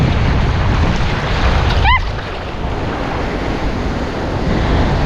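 Windy beach surf with waves splashing close to the shore, a steady broadband wash of water under strong wind buffeting the microphone, with one brief splash in the middle.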